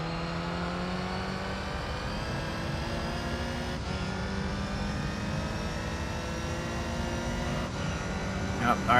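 Race car engines from Gran Turismo 3 drone steadily at high revs, layered tones shifting through the clip with a couple of abrupt gear-change breaks, loud and close with no speech.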